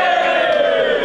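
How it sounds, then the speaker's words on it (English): A crowd at an esports grand final cheers and shouts loudly, a dense continuous roar of many voices close by. "Give me a cheer for that!"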